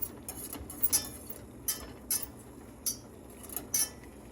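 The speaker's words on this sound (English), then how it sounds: "I got my whisk and I'm gonna mix it in" A wire whisk stirs sugar into liquid in a bowl for rock candy, giving a series of light, irregular metallic clinks and taps over a faint background hiss.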